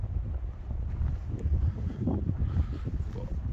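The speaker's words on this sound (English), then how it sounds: "it's a bit windy" Wind blowing outdoors beside a box trailer converted to a camper, a steady rumbling gust buffeting the microphone for a few seconds with no talking.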